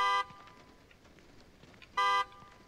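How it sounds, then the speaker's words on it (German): Two short, loud car horn honks in The Evil Within 2, the first right at the start and the second about two seconds later, separated by quiet background noise. "Ich konnte die Hupe benutzen."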